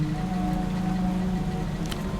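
Steady rain falls in the video game Zero Parades, a constant close hiss of drops on surfaces with a low hum beneath and no voices.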